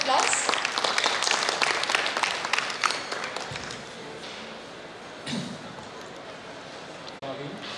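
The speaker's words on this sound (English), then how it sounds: "Can we please welcome him with a round of applause?" Conference audience applause at the inaugural session of an international healthcare conference, a dense burst of clapping that starts loud and fades to a low murmur over several seconds, with no speech.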